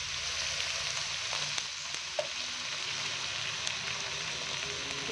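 Water poured into a pan of frying mushrooms sets off a loud, steady sizzle that holds evenly throughout, with a few faint clicks and taps of utensils on the pan.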